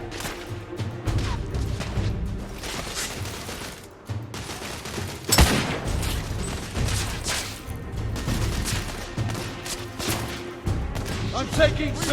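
Gunfire in a Victorian-era firefight in The Order: 1886, dense bursts of shots and crashes under shouted voices, steady and loud throughout.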